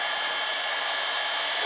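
A heat gun blowing hot air during aluminium wheel curb-rash repair, a steady loud roaring hiss held close throughout with no break.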